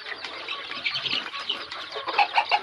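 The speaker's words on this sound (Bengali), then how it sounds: "এই যে মুরগিটা দেখতে পাচ্ছেন এটা কিন্তু অসুস্থ" Desi chickens on a poultry farm cluck and chatter in a busy close cluster, with short overlapping calls rising a little toward the end and no talking.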